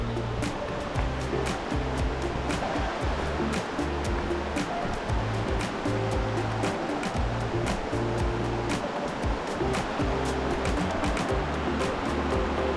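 River or creek on the Awa'awapuhi Trail near Waimea Canyon, Kauai, flowing with a constant dense rushing and splashing, loud and close with no pauses.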